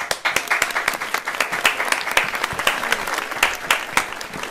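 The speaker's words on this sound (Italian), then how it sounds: "Un grande applauso" An audience greets an interview guest with lively applause, dense overlapping clapping with distinct individual claps standing out, steady and fairly loud throughout.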